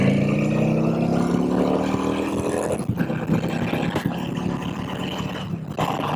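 A 2010 Honda Shadow 750 RS motorcycle engine runs steadily on a test ride, a loud continuous droning hum with a rising pitch in the first seconds, wind and road noise layered over it throughout.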